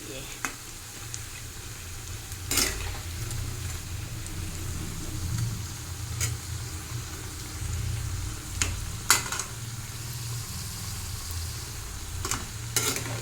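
Onion pakoras (peyaji) fry in hot oil in a pan, making a steady low bubbling sizzle throughout, broken by a few sharp clicks and taps of a utensil.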